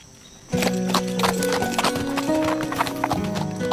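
Horse hooves clip-clop in a steady, close rhythm during a ride in a film scene, starting abruptly and carrying on loudly with some faint background sound.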